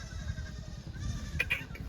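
A brief, faint bleat sounds near the end over a low, steady background rumble, with no voices.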